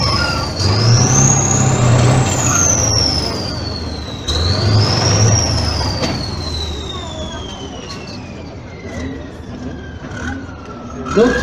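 A 300-horsepower self-propelled artillery vehicle drives at a tank demonstration in Saumur, its engine rumbling loudly and steadily as it passes. Rising and falling high whines sweep over the low roar, and a commentator talks over it.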